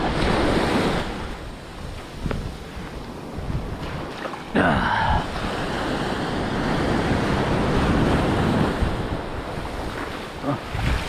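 Ocean surf rolls and washes onto a New Jersey beach during surf fishing, a loud continuous roar with a surge midway, buffeted by heavy wind noise on the microphone.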